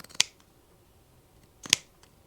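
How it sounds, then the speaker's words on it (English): Two quick, crisp scissor snips trimming oven mitt fabric, close and sharp, separated by a short pause with quiet handling in between. "Let's give it a little trim right through here."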